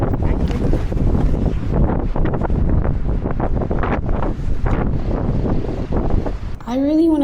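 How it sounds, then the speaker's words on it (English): Strong wind buffeting the microphone outdoors, a loud, continuous roaring rumble that stays dense throughout, with a voice talking under it and a brief higher tonal sound near the end. "the wind is just crazy. It's just obnoxiously crazy."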